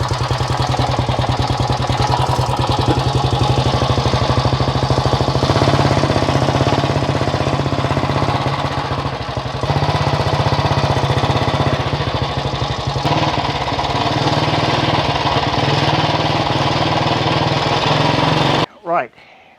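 A restored 1922 P&M motorcycle engine with sidecar outfit runs nearby, loud and close, in a steady rapid chugging throb that holds for about nineteen seconds before stopping, with voices heard at times over it.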